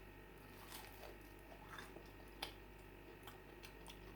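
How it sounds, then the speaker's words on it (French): Crunchy bites into a crispy homemade waffle dusted with icing sugar, a few sharp crackling bursts close to the microphone over a quiet background hum, with no talking. "Voilà ma gaufre. Et on va la goûter si elle est croustillante."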